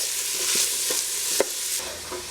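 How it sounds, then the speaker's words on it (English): Onions stirred as they fry in a pan for vegan Filipino rice porridge, a loud constant sizzle close by broken by several scraping strokes of the spoon, with no voices. "Then you'll mix it and wait for the onions to turn translucent."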